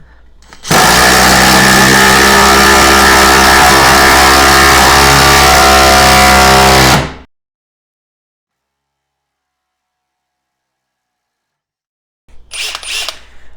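A Makita XDT19 cordless impact driver runs in one loud, continuous burst of about six seconds with a steady whining drive tone, then cuts off into silence before a brief rattling handling noise.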